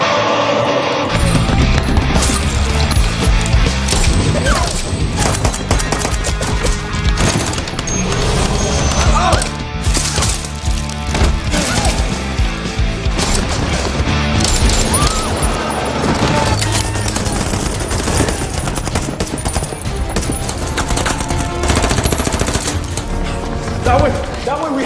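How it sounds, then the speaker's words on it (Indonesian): A brutal gunfight from an action film about a former special forces soldier up against mafia and corrupt officials: dense, loud bursts of gunfire with crashes and mechanical clatter, mixed with voices and score throughout. "tiba-tiba datanglah komplotan si Samsul sehingga terjadilah baku tembak yang sangat brutal"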